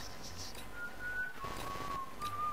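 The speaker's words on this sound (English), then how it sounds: "and I'm just whistling" A person whistles a thin, wavering tune in a few sustained notes over quiet game background noise during a Call of Duty: Black Ops II session.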